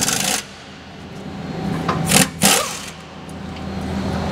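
An impact gun on a Ford Super Duty rear brake caliper bracket gives a short burst at the start, then two sharp rattling bursts in quick succession midway, with a quieter shop hum between them.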